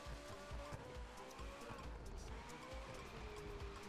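Game car drifting in The Crew 2, with tires squealing in long wavering whines over a revving engine, loud and close, continuous through the slide.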